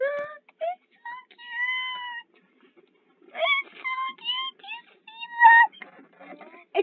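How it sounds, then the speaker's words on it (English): Cat meowing in the Brick Simulator video game, a series of clear, close, drawn-out tonal meows in two bursts separated by a short pause. "It's a cat, I think."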